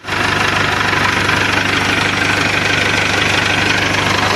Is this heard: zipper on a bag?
no